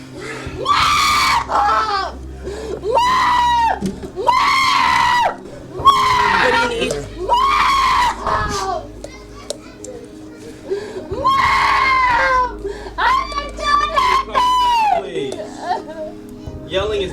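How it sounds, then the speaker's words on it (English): A woman yells and screams repeatedly in long, strained, wailing bursts with short pauses between them, close and loud, while someone briefly speaks during the outburst. "There, she's just yelling."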